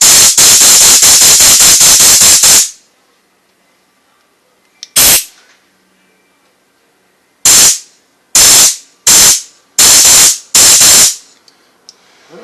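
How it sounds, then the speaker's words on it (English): Compressed air gun blowing through the carburetor of a Craftsman engine: one long loud hissing blast, then a series of short sharp bursts separated by silence, very close. "You take air gun, blow through here, and you'll hear it just shoot out."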